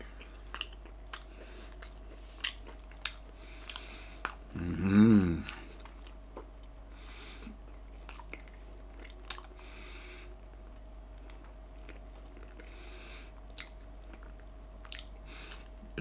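Close, wet chewing and crunching of a Picadeli club sandwich with a hard vegetable piece in it, one louder crunchy burst midway among scattered soft mouth clicks, no talking.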